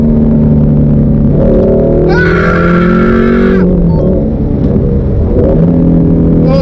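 A Shelby GT350 or Ferrari 458 engine revs hard and loud with a high, rising wail in the middle, then falls back to a rumbling idle. A voice shouts once over it.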